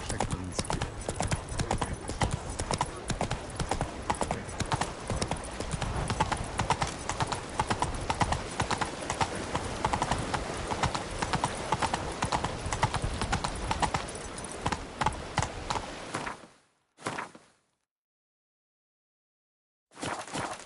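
Geralt's horse Roach trots in The Witcher 3, a steady clip-clop of hooves under game ambience and music that cuts out near the end, with a brief voice nearby.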